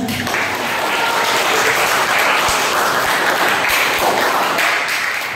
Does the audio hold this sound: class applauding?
yes